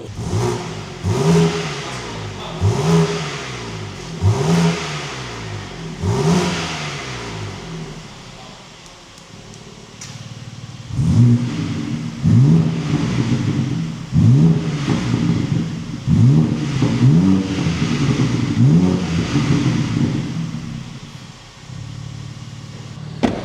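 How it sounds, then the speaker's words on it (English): A G82 BMW M4 engine revs repeatedly in short, punchy bursts, each rising and falling, with a deep, boomy exhaust note close by. "it sounds pretty boomy, sounds a little bit throaty, but it ain't no M4 sound"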